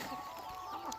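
Chickens from double body rooster breeding cluck softly nearby, a brief low murmur of fowl sounds with a couple of small clucks rising over a quiet background.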